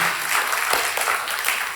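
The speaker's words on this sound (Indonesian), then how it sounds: "Boleh kasih tepuk tangan sama teman-teman yang sudah melayani." Congregation applause for volunteers at an Indonesian Sunday church service, a dense, steady clapping from a large crowd filling the whole short moment, close and loud, with no talk over it.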